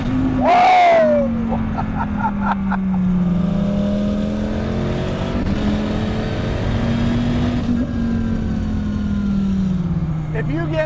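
Dodge Viper race car engine droning at high throttle inside the cockpit, a loud, steady, low roar with slowly shifting pitch, joined by a brief high whine and a voice shouting over it.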